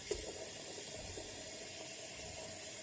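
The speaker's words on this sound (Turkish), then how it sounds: "Şöyle suyumu da koyayım hemen." Water pours steadily into a kettle or pot for brewing tea, a faint continuous hissing trickle with a small clink at the start, heard close and quiet with no talking.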